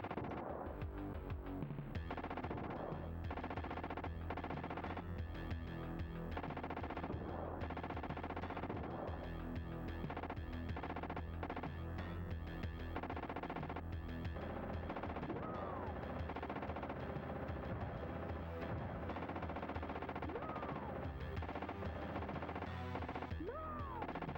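Gunfire from the SNES T2 the Arcade Game, with constant rapid shooting and crashing over throbbing game music. The sound is dense and stays at a steady level throughout.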